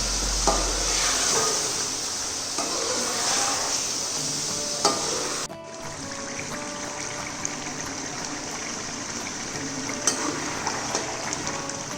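Chicken fries in ghee in a pot for karela gosht, a continuous dense sizzle with occasional stirring clinks and scrapes throughout.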